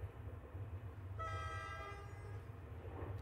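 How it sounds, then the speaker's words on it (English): A train in the video game Omori sounds a single sustained horn blast over a low rumbling rail background, fairly close, before fading away. "board the train, choo-choo."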